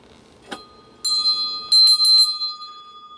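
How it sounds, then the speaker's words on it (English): A bell rings in a quiet room, a faint knock first, then a bright sustained ring followed by four quick repeated strikes that leave a clear, slowly fading tone. "I'll ring the bell so I don't forget."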